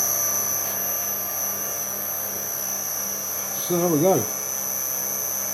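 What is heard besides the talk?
three-phase electric motor running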